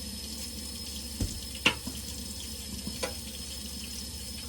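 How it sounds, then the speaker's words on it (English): Water from a kitchen tap runs steadily while a large spoon is washed in the sink, with a few soft clinks of the utensil against the basin over the constant stream. "So let's wash this real quick here."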